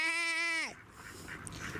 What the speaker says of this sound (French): Il y a des oies.